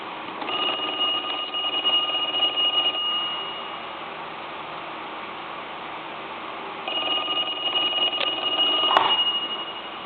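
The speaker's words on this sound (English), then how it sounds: "I'm going to go ahead and ring this telephone now." A vintage Deco Tel telephone under repair rings its mechanical bell in two long bursts, a steady metallic trill for about two and a half seconds, a pause, then another burst ending in a sharp clack.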